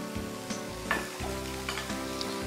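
Broccoli and onion are stirred in a hot pan, giving a soft, continuous sizzle broken by scraping and clacking of a utensil, with no one talking.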